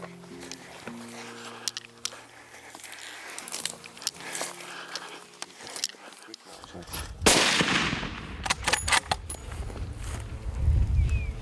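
A hunting rifle fires during a safari in South Africa, several sharp loud reports standing out against outdoor ambience, footsteps and rustling, with people talking nearby.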